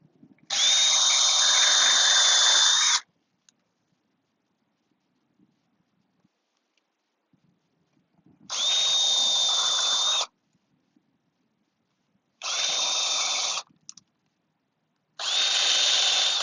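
Power drill driving screws into wood in four whirring bursts, a long one followed by three shorter ones, each starting and stopping abruptly with near silence between them, close and loud.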